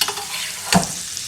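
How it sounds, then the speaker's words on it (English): Steaks sizzle in garlic thyme butter with a steady, close frying hiss, and a single scrape or spoon clink cuts in briefly partway through. "Then let's drown these steaks in this delicious garlic, thyme,"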